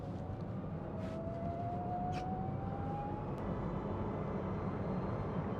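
A Webasto Airtop 2000 diesel heater fitted in a Citroen Ami starting up, a steady, droning fan and combustion hum with a faint rising whine and a few soft clicks, no speech.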